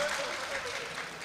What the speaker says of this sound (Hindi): लेकिन तालियां आप सलीके से नहीं बजा रहे